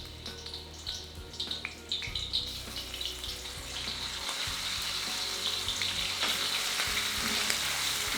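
Garlic and ginger hitting hot oil for beef chilli, quiet clinks at first, then a rising, steady close sizzle that fills the remaining seconds.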